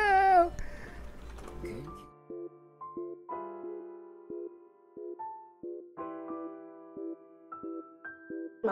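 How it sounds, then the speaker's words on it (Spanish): A short, wavering cat meow from the video game SAO Alicization Lycoris opens the clip, followed by soft, plinking game music with repeated melodic notes. "Ese maullido es como, literal, como si alguien hiciera..."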